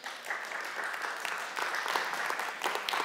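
Church congregation applauding, a steady wash of many hands clapping at moderate distance, fairly faint and continuous throughout.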